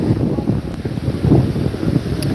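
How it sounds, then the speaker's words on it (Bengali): Strong wind roars and buffets the microphone in a continuous low rumble, with the wash of surf underneath and no voices, during heavy rain on Digha beach. "প্রবল গতিবেগে চলছে বৃষ্টি এবং বাতাসও ব্যাপক পরিমাণে চলছে দীঘার সৈকতে"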